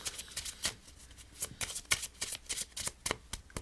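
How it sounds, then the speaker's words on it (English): Cards being riffle-shuffled in quick bursts of crisp fluttering clicks, close up, repeating steadily with no talking. "you can hand the deck over to the spectator, and they can shuffle it"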